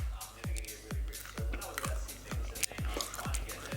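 Crunchy vegan food with almonds being bitten and chewed close to the mic, about eight sharp crunches in an even rhythm, each one crisp and distinct, no talking.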